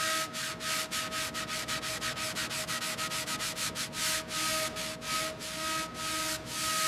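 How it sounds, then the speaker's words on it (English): Car body panels on the rear quarters of a 1957 Jaguar XK150 sanded by hand, steady rapid back-and-forth strokes of even rhythm, close and continuous with a faint background hum. "The restoration of this 1957 Jaguar XK150 moves to the rear quarters, with the panels sanded smooth."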